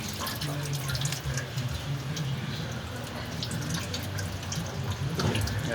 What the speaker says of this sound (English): Excess oil spills out.